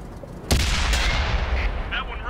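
A tank cannon fires in the World of Tanks video game, one sharp heavy boom with a rumbling tail over a constant loud engine drone, sounding close.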